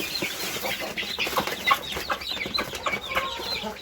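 Busy chorus of small chicks eating, peeping and clucking continuously, a dense cluster of high chirps close by with no talking.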